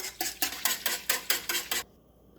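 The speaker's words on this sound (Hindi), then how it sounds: "हम इसको अब हीट पर रखेंगे, पकाना शुरू करते हैं और कंटिन्यूसली इसको चलाते रहेंगे।" A spoon scrapes and knocks against a pot as coconut milk pudding is stirred on the heat, eight quick rhythmic strokes close by, then stopping abruptly into near silence.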